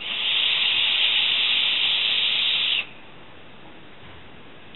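Air is drawn hard through a Hcigar Plume Veil vape dripper, giving a loud, close, steady hiss that lasts nearly three seconds before stopping abruptly.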